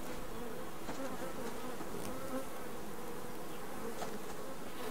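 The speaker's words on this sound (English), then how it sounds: "Oh, there's bees here." Bees buzzing around a beehive in the video game Subsistence, a dense, steady swarm drone that fills the whole stretch at an even level with no talking over it.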